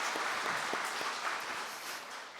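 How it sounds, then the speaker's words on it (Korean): A church congregation applauds for its Sunday school children, a steady wash of many hands clapping at moderate volume for a few seconds with no talk over it. "우리 교회 학교 친구들 위해서 박수 한번 합니다."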